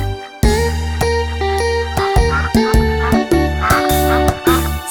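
Cartoon-style duck quacks in a children's song about five little ducks, repeated rhythmic quacks set over bright tonal music and sung melody.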